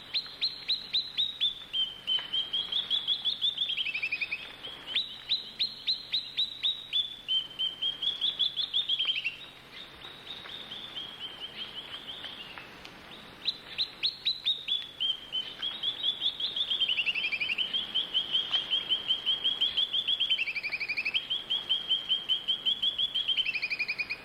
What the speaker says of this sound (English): two scaly-throated leaf tossers argue over their territory